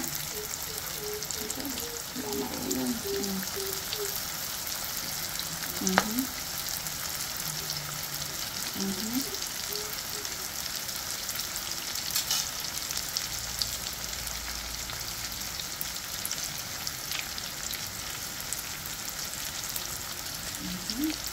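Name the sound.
shrimp spring rolls (lumpia) frying in hot oil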